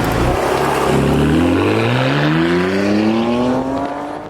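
A Ferrari 599's front-mounted V12 revs up loud and close while driving, its pitch climbing steadily through a gear before easing off at the end.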